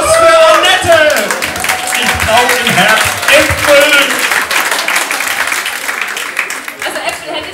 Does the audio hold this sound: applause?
yes